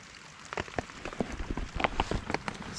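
Rain turning to snow patters on a tent during a cold-weather kayak campout, close irregular ticks and taps over a soft steady hiss.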